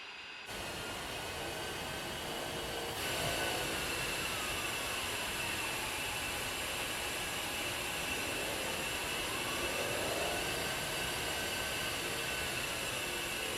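Aircraft engine in DCS World taxiing on the ground, a steady loud broadband whine and roar with sustained high tones, holding constant throughout with no talk.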